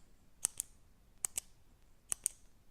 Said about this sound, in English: if I press it, it will make a clicking noise or a clicking sound